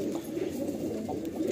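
Pigeons cooing in a loft, low rolling coos repeating steadily and close by, soft and continuous with no talk.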